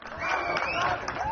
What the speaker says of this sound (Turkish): Tatar'a destek veren bir başka gruptansa alkış sesleri yükseldi.